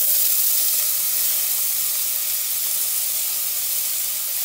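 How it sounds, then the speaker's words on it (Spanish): Garlic and onion hit hot oil in a pan, a steady, dense, close hiss of sizzling that holds even throughout without stirring or talk. "vamos a echar el ajo y la cebolla"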